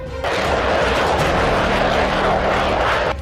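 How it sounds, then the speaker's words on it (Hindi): A B-1B bomber flies through the sky over the Baltic Sea, its loud, continuous jet roar steady from start to finish with no voices. "अमेरिका की यही B-1B बॉम्बर बाल्टिक सागर के आसमान में रूस की सीमा की तरफ बढ़ रहे थे"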